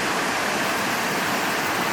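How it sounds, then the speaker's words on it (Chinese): Sudden heavy rain falls outside in Seoul, a thick, even rush of water noise, constant and fairly close, with no voices over it. "外面突然下大雨耶"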